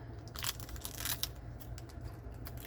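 Scissors snipping and crinkling the plastic of a Model Magic clay package, several quick crunchy cuts up close, with no voices.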